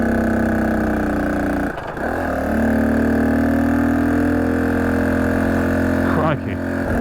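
A 1968 Honda CT90 motorcycle climbing a hill in second gear, its small engine droning steadily at high revs, with two brief dips in the note, up close.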